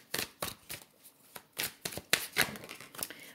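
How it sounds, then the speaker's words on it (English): Tarot cards are shuffled and drawn from the deck, giving a quick run of crisp close riffles, flicks and soft slaps in an irregular rhythm. "let me pull a card and we'll see what comes out"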